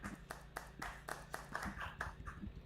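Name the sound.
avatar clapping sound effect in a metaverse livestream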